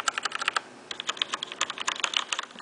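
Rubber dome keys on a Corsair K60 keyboard typed in a steady, rapid run of soft, close clicks and clacks, with a brief pause near the middle and no talking.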